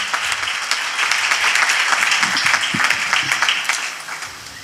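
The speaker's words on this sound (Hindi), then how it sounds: "तालियां बजाएंगे खुदा के खादम के लिए" An audience at a church sermon applauding the preacher, a dense, loud wash of many hands clapping together that fades slightly toward the end.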